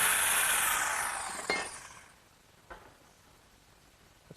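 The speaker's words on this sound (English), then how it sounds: "What I'm going to do is I'm going to use my portable handheld jigsaw." A portable handheld jigsaw cuts drawer openings in the rail of a kitchen worktable, giving a loud, buzzy rasp that fades out partway through, followed by a couple of sharp knocks in the quiet afterward.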